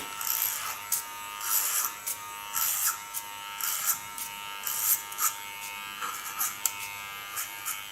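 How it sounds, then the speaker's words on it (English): Electric clippers buzz against the nape of the neck during a haircut, coming in repeated close bursts of shaving strokes with short pauses between them and no talking. "And I'm starting on the nape shave."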